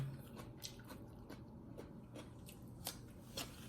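Close mukbang eating of oxtails and fried dumpling: soft crunchy bites and wet chewing clicks repeat irregularly over a quiet background, with no speech.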